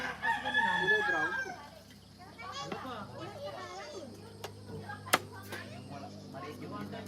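A rooster crows loudly and close at the start of a rural provincial yard scene, then children and adults chatter and talk over faint background clucking.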